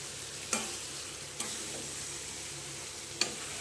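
Chicken meat for chicken do pyaza is stir-fried in a pan, giving a faint, steady sizzle with a few sharp scrapes of a spatula spaced a second or two apart.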